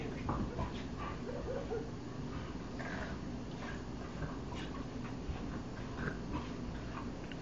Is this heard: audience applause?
no